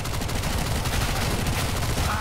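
Rapid automatic gunfire from a Mac-10 submachine gun in the video game CS:GO, a dense continuous burst of shots, loud and close.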